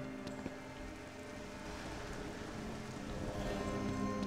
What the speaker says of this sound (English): Raining out there.